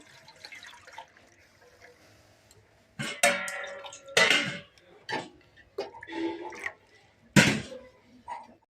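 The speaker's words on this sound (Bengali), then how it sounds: "এবার এর মধ্যে দিয়ে দেব পরিমাণ মতো জল, ডিমটা সিদ্ধ করার জন্য।" Water poured into a saucepan set on a gas stove for boiling duck eggs, heard as several short splashing, gurgling pours close by, separated by quiet pauses.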